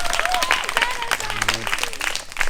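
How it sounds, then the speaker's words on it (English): Students clap for a teacher at a school Olympic Games event, a quick burst of scattered applause with voices and chatter over it. "Let's clap for Mr. Soto."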